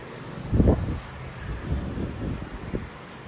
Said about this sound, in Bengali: আজকে হাওয়াও খুব সুন্দর